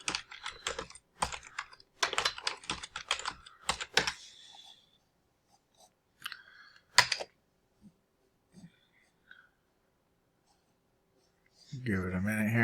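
A directory services restore mode password is typed on a computer keyboard in quick bursts of clicky keystrokes over the first few seconds, then a few isolated taps among long quiet gaps.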